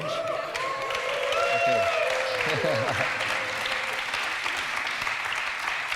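A small group cheers and applauds at a photo session for a €20 million investment announcement at a Berlin conference, moderate clapping under a brief spoken word and some chatter.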